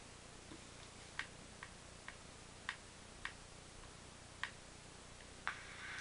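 Faint, evenly spaced soft ticks, about one every half second, come from a Bachmann A1 model locomotive's sound decoder over a low background hiss.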